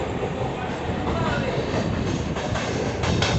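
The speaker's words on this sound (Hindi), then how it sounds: "ट्रेन स्टार्ट हो चुकी है।" Borivali fast local train in Mumbai pulling away and rolling along, a steady loud rumble of wheels on track with faint rattling and rhythmic clatter, heard from inside a carriage.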